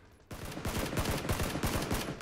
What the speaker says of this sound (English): Couple shots hit.